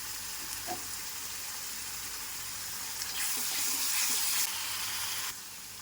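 Goat tripe sizzles and fries steadily in a pan with ginger, a continuous close crackling hiss that swells louder for a stretch before easing back, with no talking.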